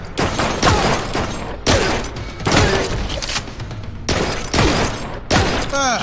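Film-scene gunfire: several loud, dense bursts of rapid shots with short gaps between them, echoing with a few mechanical clicks and shattering, and no clear speech.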